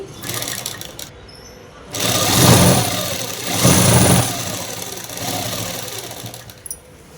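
A sewing machine stitches a shirt in steady motor-driven runs, swelling louder in two bursts mid-clip with a softer pass after, no voices present.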